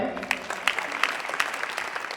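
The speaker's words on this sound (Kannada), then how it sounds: "ಚಪ್ಪಾಳೆ." Brief bursts of clapping from a crowd at a temple auction of cradle items at a village math in Karnataka, a few sharp claps rising over steady background chatter.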